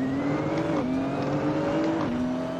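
Race car engine in the Assetto Corsa driving game, a steady high-pitched drone that rises in pitch then drops at two quick upshifts, loud and continuous with no talk.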